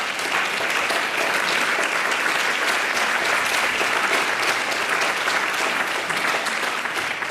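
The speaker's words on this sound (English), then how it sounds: "Please stand up and let us give you a round of applause." An auditorium audience gives a steady round of applause, dense and even clapping from many hands that holds at a constant level throughout.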